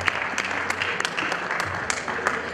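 Guests at a quinceañera celebration clapping in a brief burst of steady applause, moderately loud with faint voices mixed in.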